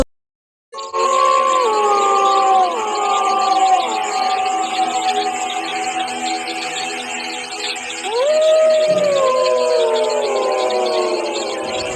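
Dogs howl at night, long wailing cries rising and slowly falling, one sustained howl after another, loud and drawn out over a quiet background.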